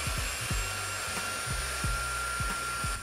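A Tefal X-Force Flex 15.60 Animal cordless stick vacuum cleaner runs continuously with a steady high motor whine. Regular low rhythmic thumps repeat about every half second, heard close up and without speech.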